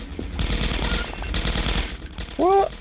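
Gunfire in the PC game Half-Life 2: Episode One: rapid automatic bursts crackle through the mix with a short gap between them, followed by a brief rising electronic whine.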